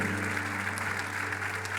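A church congregation breaks into steady, dense applause that fills the brief moment without pause, with no voices standing out over the clapping.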